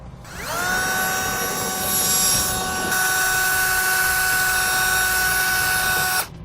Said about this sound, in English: we're going to enlarge this hole to a 1/2 inch in diameter now